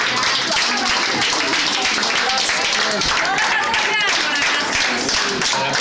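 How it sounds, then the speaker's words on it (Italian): Dense applause from a crowd at a retirement gathering, continuous and loud, with voices chattering underneath the clapping. "Un applauso a tutti,"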